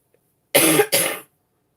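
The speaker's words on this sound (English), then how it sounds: "Still coughing." A person gives two quick, harsh coughs in a row, close and loud in an otherwise quiet room.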